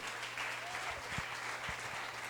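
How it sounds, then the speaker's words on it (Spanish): A church congregation at a Christian worship service in Medellín, Colombia, claps together in a steady, moderately loud wash of applause, with a low hum running underneath throughout. "Den un aplauso fuerte al Señor"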